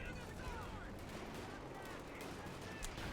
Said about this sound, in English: I think that was a light artillery barrage coming down there.